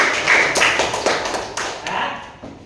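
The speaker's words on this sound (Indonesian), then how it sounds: "Tepuk tangan buat Mas Haji." Classroom applause: a short burst of several people clapping close by, with uneven rapid claps for a couple of seconds.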